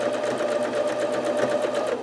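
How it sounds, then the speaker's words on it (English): Sewing machine zigzag-stitching the edge of a face mask cut from a T-shirt, running continuously and close with a fast, steady mechanical chatter. "And then you're going to sew this edge"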